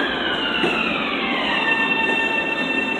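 A crowded commuter train rolls along at speed, its steady loud rumble topped by long high-pitched wheel squeals that slide slowly in pitch.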